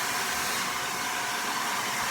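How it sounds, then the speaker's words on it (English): A handheld blow dryer runs on a turned-down power setting, giving a steady, close, unbroken airy whoosh with no pauses or speech. "To blow dry my bangs, I do turn the power down on my blow dryer."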